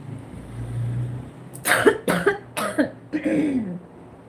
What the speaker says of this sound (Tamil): இருமல் அதிகமாக இருக்குது இப்போது.